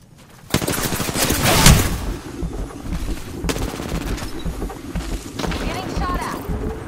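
Automatic gunfire in the battle royale game Apex Legends, a loud burst of rapid shots that then settles into steadier crackling fire and game noise, with a voice talking over it.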